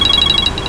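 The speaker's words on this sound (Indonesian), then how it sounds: "Ada telepon nih." A telephone rings with a quick electronic warbling tone, a short burst of repeated high beeps heard alone and close.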